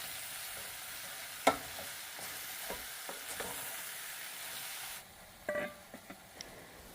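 Sliced yellow squash sautéing in a pan, a steady soft sizzle and hiss with a few sharp clinks of a utensil stirring, the frying noise dropping quieter partway through.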